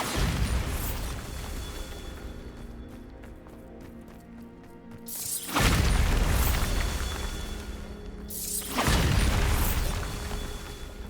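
In Hogwarts Legacy, a Bombarda blasting spell goes off twice, each a loud, close, booming burst with a rumbling tail, separated by a few seconds of rattling debris and ambient game sound.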